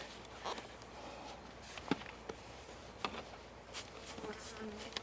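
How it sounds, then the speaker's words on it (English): Faint buzzing of honey bees at a backyard hive drones close by, with a few soft knocks and rustles, quiet overall and without speech. "You see the bees on top?"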